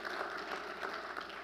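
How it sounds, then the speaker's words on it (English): A seated keynote audience claps together in a steady, dense wash of hand claps, moderately loud and fairly uniform across the short stretch, with no talk over it. "can you just clap your hands right now?"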